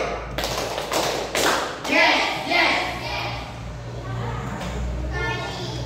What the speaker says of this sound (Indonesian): Oke, untuk tepuk semangatnya, tepuk 3 kali.